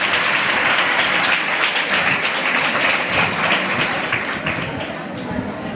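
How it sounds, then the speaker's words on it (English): An audience at a school quiz competition claps steadily and loudly for about six seconds, a dense, continuous patter that eases slightly toward the end. "Round of applause for audience."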